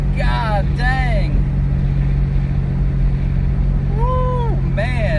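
A twin-turbo V6 Mustang engine runs under boost with a constant, loud, droning hum. Speech rises over it at the start and end, and the engine noise holds steady underneath.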